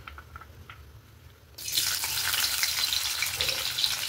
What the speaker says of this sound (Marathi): कांदा आता छान परतून घ्यायचा आहे आपल्याला, खालीवर.